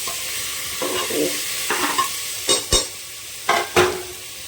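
Potatoes, onions, tomatoes and green chillies frying in a pan, a continuous sizzle with a series of sharp spatula scrapes and stirs growing louder toward the end, close by.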